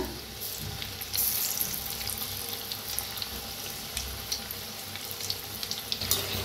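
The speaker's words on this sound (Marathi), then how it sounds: "बघा किती छान असं भाजायला लागले, तळायला लागले तेलात।" Chana koli vada fry in hot oil with a continuous, fairly quiet sizzle and fizz, scattered with small crackles and pops, with no talking.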